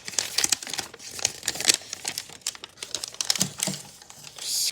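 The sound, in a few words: folding and creasing origami paper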